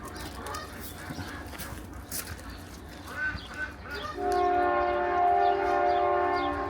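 Distant traffic and birds give way to a loud, sustained train horn blast that holds steady for a couple of seconds.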